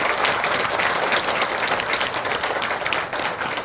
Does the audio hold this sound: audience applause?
yes